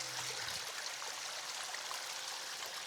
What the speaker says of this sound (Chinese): 有一條山泉水溪流啊，從山上面流淌下來